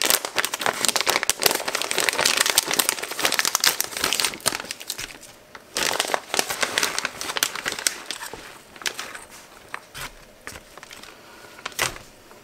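A plastic packet holding 180 g of cheddar is opened and tipped out in a home kitchen: sustained crinkling and rustling of the wrapper, loud at first, then fainter intermittent crackles, with no voices.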